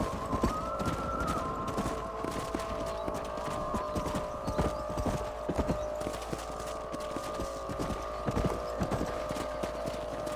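Steady rhythmic hoofbeats of horses galloping in Red Dead Redemption, continuous and fairly close, with a sustained tonal hum underneath and occasional louder thuds.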